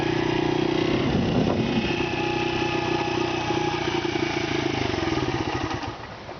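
A Honda XR80 dirt bike engine held at a steady, loud throttle during a slow first-gear wheelie, droning continuously before easing off near the end.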